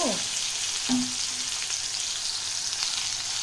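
Tomato, potato and other ingredients frying together in a pan, a steady, even sizzle throughout with a brief clink of a utensil near the start, no talking.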